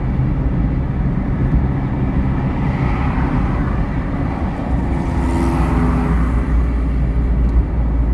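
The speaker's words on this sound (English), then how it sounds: "Car doesn't sound healthy." A car engine runs roughly at a steady, loud drone with low rumbling, no talk over it, heard continuously as if from inside the car on a day trip on the Isle of Cumbrae, Scotland.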